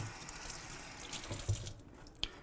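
Used venison marinade is poured away into a kitchen sink, giving a faint splashing trickle of liquid with a few soft drips and a brief louder splash near the end.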